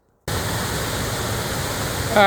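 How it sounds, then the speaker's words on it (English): A big waterfall on the West Highland Way roaring steadily, a loud, unbroken wash of noise that starts abruptly after a brief silence. "we've had quite a few waterfalls along the way, and this is the biggest and the best"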